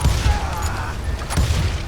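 Gunfire in the western shooter game Call of Juarez Gunslinger rattles in a dense, continuous barrage, with louder bursts near the start and again toward the end.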